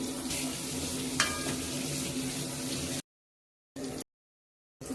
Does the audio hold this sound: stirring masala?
yes